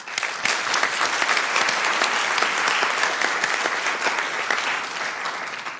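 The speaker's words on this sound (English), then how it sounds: "one round of applause" A round of applause fills a Sacramento city council chamber, dense steady clapping from many people, close and sustained with no speech.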